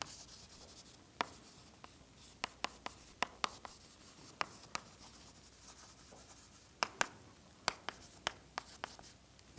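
Chalk or marker tapping and scratching on a board during a doctoral lecture on partial differential equations, with sharp irregular strokes over a quiet room and no talk.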